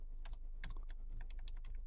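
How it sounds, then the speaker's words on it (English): Rapid clicking of keys on a computer keyboard while working in a spreadsheet, a series of short, close taps in an uneven rhythm with no voices. "F2 on the keyboard"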